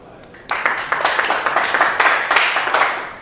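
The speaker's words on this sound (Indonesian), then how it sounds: "Tepuk tangan dong." Audience clapping at an Indonesian property investment seminar, starting abruptly after a brief pause and holding a steady, moderately loud patter of hands for a few seconds.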